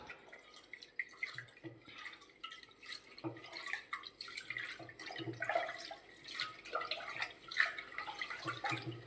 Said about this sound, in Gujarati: તો આ ચોખાને ધોઈ લઈએ પહેલાં